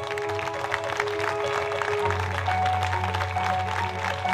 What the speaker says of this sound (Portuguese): Quero o vosso aplauso.